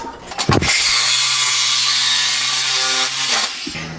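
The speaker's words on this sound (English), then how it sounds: "So we're going to continue to cut right through that hole." A power tool cuts through a car body panel on a shaky table, a loud, steady high whine with a metallic rasp that starts abruptly, runs about three seconds, then winds down.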